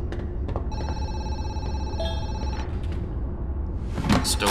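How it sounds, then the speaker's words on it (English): A telephone rings inside a building in the horror game Zoochosis, a steady electronic trill over low ambient rumble, followed by a couple of thuds and rustling movement. "We got a phone ringing in here."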